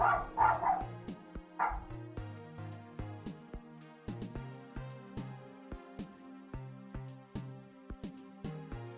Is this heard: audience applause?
no